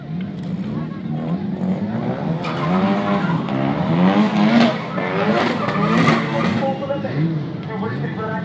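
At a drag racing event, a Ford slides sideways with squealing, skidding tyres and a revving engine, heard from a distance while an announcer talks loudly over the noise.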